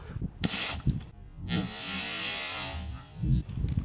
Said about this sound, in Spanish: el gas hace ruido de gas saliendo, y las bolas han salido correctamente